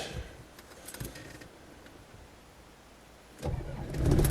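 A 1992 Land Rover Defender 110 station wagon with a 200TDi diesel: faint clicks and key rattles near the ignition, then the engine cranks and fires into a loud, rough, close clatter near the end.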